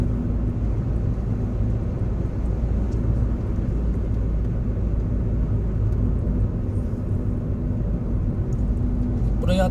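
A car accelerates to around 60–70 km/h on a driving exam route, its engine a steady, droning rumble under road noise from inside the cabin, loud and continuous throughout.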